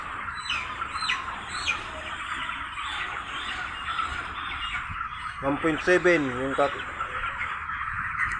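Loud squawks and squeals from a chicken handled by a child at a broiler harvest, bursting out mid-clip over a steady background of people talking nearby.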